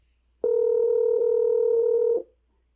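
A steady phone dial tone sounds through an OontZ Angle 3 Bluetooth speaker, loud and continuous for under two seconds, then cuts off into silence.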